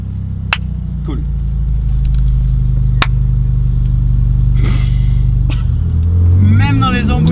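A Bugatti Chiron Sport's engine rumbles low and steady, idling and crawling in slow traffic, with a brief rise in revs near the end while people talk inside the car.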